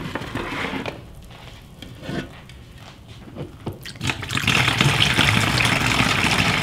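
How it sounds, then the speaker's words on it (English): Cooled sugar water for feeding honey bees is poured into a measuring cup, beginning with scattered trickles and drips and swelling into a steady, close pouring stream near the end. "So now the sugar water's cooled, I'm going to go ahead and get it poured into my measuring cup."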